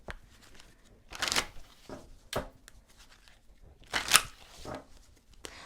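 A deck of cards being shuffled, with bursts of crisp riffling and rustling at irregular intervals between quieter handling noise, close by and without speech.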